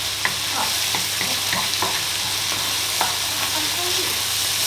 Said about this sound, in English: Whisk it round, make it all mixed in nice and properly